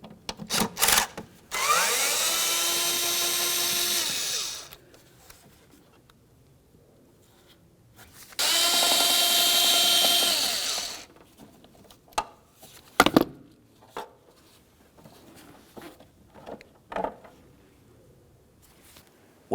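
A power tool whirs in two sustained bursts of a few seconds each as it backs out T25 Torx screws on a 2002-2005 Ford Explorer, with loud, close tonal whining and sharp clicks and clunks of handling between bursts.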